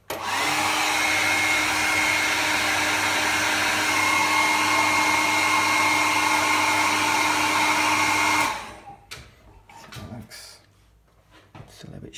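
A hair dryer blasts steadily and loudly for about eight seconds to dry fresh varnish during a blending job, then cuts off, leaving faint handling clicks and shuffles.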